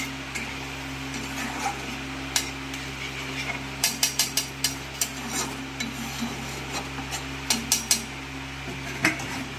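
Metal pots, bowls and utensils clink and clatter in a kitchen while ridge gourd cooks, with a lid set over the pot; sharp knocks and taps recur irregularly over a steady low hum, no talking.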